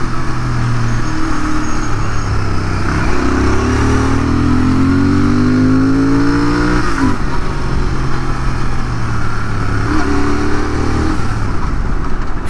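New 2023 GT650 motorcycle being ridden, a loud close engine drone with rising revs as it accelerates through gears, steady wind noise throughout.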